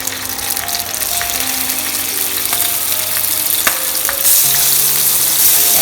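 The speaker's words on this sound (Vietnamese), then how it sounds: "Bây giờ mình cho một ít dầu vào trong chảo, mình rán cho cái cá này cho nó chín lên." Fish fries in oil in a pan at home with a loud, continuous sizzle and crackle, with occasional clinks and scrapes of a utensil and a brief burst of hiss near the end.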